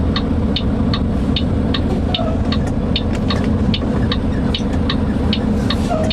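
A truck engine rumbles steadily close by as it rolls past, a low continuous drone with faint regular ticking above it and no one talking.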